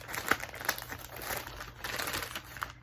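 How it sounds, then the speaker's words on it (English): Paper mystery bags of cross-stitch supplies crinkle and rustle in close handling, a run of sharp crackling bursts and soft crumples over a few seconds with no talking. "Now you're going to hear some crinkling because they are paper bags."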